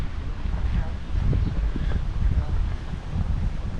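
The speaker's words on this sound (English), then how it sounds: "heading straight into the wind" Wind buffeting the microphone along a Mallorca seafront, a continuous low rumbling roar with gusts that swell and fade.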